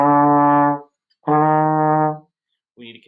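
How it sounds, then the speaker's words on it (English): Trombone notes sound separately, each clearly detached with a short silence between them, loud and close, with another note just beginning at the end. "So if I'm playing those four notes without the slur,"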